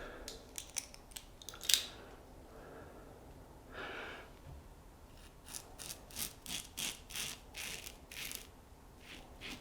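A handmade pine and cedar soap bar is cut with a blade, giving a series of crisp, scraping bites. An early cluster of cuts is followed by a pause, then a quicker run of strokes, all fairly faint and close.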